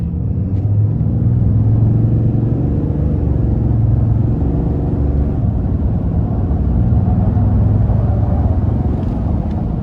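A 2024 RAM 2500 Limited Night Edition with the 6.7 Cummins inline-six turbo diesel, floored onto an interstate, with a deep, steady engine drone and rising rumble heard from inside the cab.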